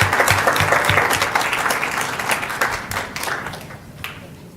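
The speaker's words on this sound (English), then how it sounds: "ask that everyone give a little round of applause for our own Dr. Tony Turnquist" Applause at a school board of education meeting for Dr. Tony Turnquist, dense clapping from a room of attendees that starts strong and gradually thins and fades toward the end.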